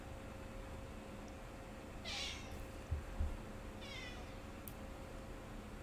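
A cat meows twice, a short call followed by a longer wavering one, fairly close and clear over a steady low background hum, with no talking.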